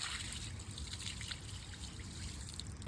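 Dirty water trickles steadily across a van floor during cleaning, a soft continuous close-up dribble with no talk.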